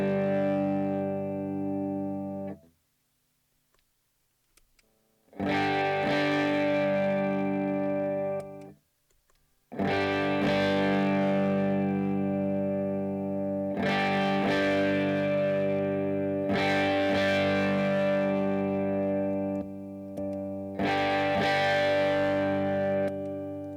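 Electric guitar through a Chase Bliss Automatone mkII preamp set for a Timmy-style overdrive, with the gain raised by expression pedal: bursts of lightly driven chords ringing out, separated by short silences, close and alone, with no talking.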